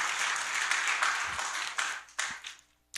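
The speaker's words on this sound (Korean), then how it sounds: "박수 한번 하십시다." A church audience claps together at a talk, producing dense, continuous applause that thins and fades toward the end.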